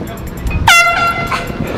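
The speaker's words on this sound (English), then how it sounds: "Sound signaling devices can be extremely loud." A boat's sound-signaling horn gives one loud, harmonically rich blast lasting about half a second, rising out of steady background noise and then cutting off.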